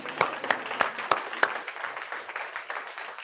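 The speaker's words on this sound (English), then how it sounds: "Oh, round of applause? I think so." A lecture audience at a geology talk claps for a guest, starting with a few sharp, distinct claps that quickly spread into a lighter, scattered round of applause that fades.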